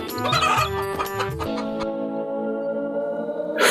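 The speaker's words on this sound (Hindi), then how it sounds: "ये मुर्गी नहीं, मुर्गा है" A cartoon rooster clucks and crows in a burst of stacked, bright calls, loud and close, followed by a held tonal ring, with no talk over it.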